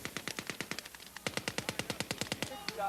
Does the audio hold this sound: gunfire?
yes